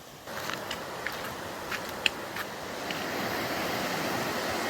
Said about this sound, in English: I'm gonna check out these rapids.